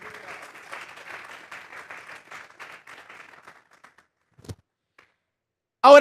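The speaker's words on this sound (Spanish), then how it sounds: "Denle un fuerte aplauso pues al Señor." Congregation at a church service gives a fairly faint round of clapping that fades out within a few seconds, followed by a couple of isolated knocks and a sudden loud noise at the end.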